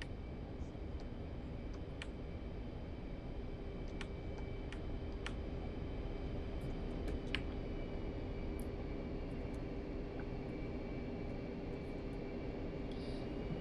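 An F-15 jet engine roars during takeoff in the DCS World flight simulator, a steady, dense rumbling drone with a few faint clicks scattered over it.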